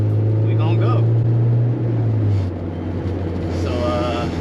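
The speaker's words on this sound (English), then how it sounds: "now that we have an exhaust, we gonna go" A Honda S2000 sports car fitted with a new aftermarket exhaust drives on a canyon road, its engine droning steadily and loud with a note that drops partway through, heard from inside the car.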